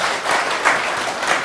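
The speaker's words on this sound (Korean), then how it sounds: "여러분들 박수 좀 다시 한번 힘차게 좀 부탁드리겠습니다" A concert audience at a violin recital applauds a visiting performer from France, with a full, even patter of many hands filling the room and no speech on top.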